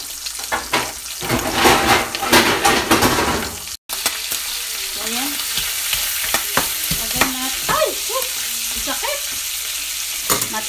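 Hot oil sizzles and spits steadily in a pan while breakfast fries in a home kitchen, with a brief cut near the middle, then continued close crackling and scattered pops.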